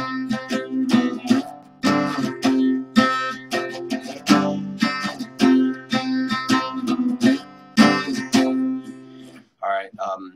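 Acoustic guitar strumming the outro chords of a song, a steady run of full, ringing strums with brief pauses, close and clear, ending in a few lighter plucked notes.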